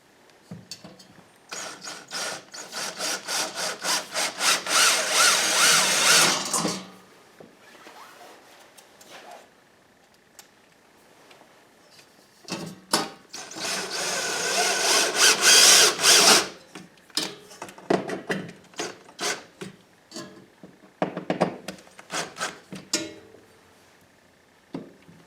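Power driver sinking screws to mount a tool holder on a wall, two sustained loud whirring bursts separated by quieter clicks and handling knocks, followed by shorter intermittent driving pulses.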